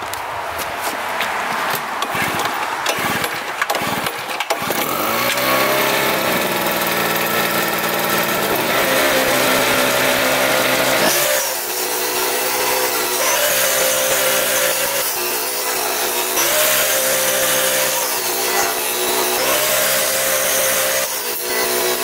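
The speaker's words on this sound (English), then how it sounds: "But I think I'm going to go with the angle grinder for now." An angle grinder cuts through rebar on an off-grid yurt build, starting with choppy bursts and then a sustained, loud, high-pitched whine with shifting pitch as the disc bites the steel, with no talking.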